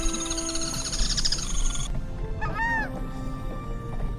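Wetland birds calling in the Iberá marshes, with a run of high chattering calls followed by a few sweeping, honking notes over a steady background of marsh ambience, moderately near.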